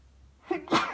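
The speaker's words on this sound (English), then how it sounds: "I'm going to sneeze." A single close sneeze, a short inhale followed by a sharp burst, clear against a quiet background.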